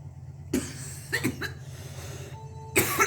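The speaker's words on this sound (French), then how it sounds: "Oh, je tousse beaucoup" A few sharp coughs in quick bursts, then a pause with a faint tone, followed by another harsh cough close by.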